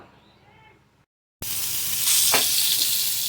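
Eggplant slices go into very hot oil on a griddle: after a brief quiet moment, a loud, close, sustained sizzle bursts up and keeps hissing steadily.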